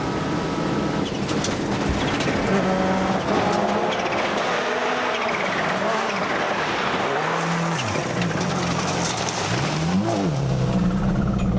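A rally car at the Rallye Défi Petite Nation 2021 in Quebec revs hard during a stage, its engine rising and falling through repeated climbs with tire squeal and gravel noise, loud and close throughout.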